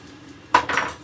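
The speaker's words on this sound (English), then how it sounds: "so we're starting off by chopping our red onion" A knife chops a whole red onion on a board, making two sharp, close knocks about a quarter second apart after a quiet moment, with no speech.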